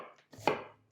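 A single knife stroke slices through a bright-tasting onion into thin slices on a board, a close crunchy cut ending in a soft thud on the board, with quiet around it.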